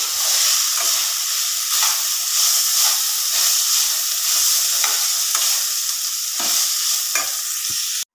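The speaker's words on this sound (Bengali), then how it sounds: "এবার এর মধ্যে সস দেবো, এর মধ্যে সব পাস্তাগুলো দিয়ে দেবো, দিয়ে ভালো করে নাড়াচাড়া করবো।" Chili pasta and sauce are stirred in a hot pan, producing a loud, steady hissing sizzle with intermittent scraping strokes of the utensil throughout and no speech.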